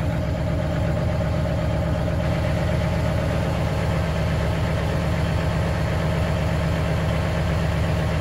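Truck diesel engine idling at 1,000 RPM, a loud, steady low rumble with a rapid rhythmic knock, heard close and uninterrupted with no talk.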